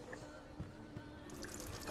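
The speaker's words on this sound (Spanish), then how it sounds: "Tira la leche." Goat milk poured out in The Witcher 3, a soft liquid trickle with scattered drips running steadily for about two seconds at low level, with no speech.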